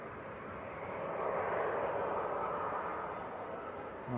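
A Jet2 airliner bound for Dalaman at Leeds Bradford Airport, about to start its take-off roll in crosswinds, gives a distant, steady broadband roar and rumble. The sound is faint and holds a constant level.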